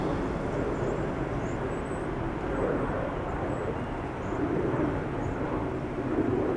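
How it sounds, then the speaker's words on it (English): A business jet taking off from runway 22 at Amsterdam Schiphol Airport, a steady broadband engine roar heard from a distance that holds level throughout. "BizJet's taking off from runway 22."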